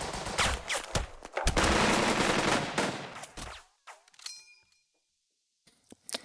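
A loud burst of soldiers' machine-gun fire in the WWII strategy game Burden of Command rattles for about three seconds, followed by a few isolated shots, a metallic ring and near silence.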